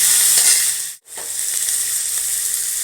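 Onions and crushed garlic sauté in hot oil with a steady, close, bright sizzle, interrupted briefly by one sharp dip near the middle before the frying hiss resumes.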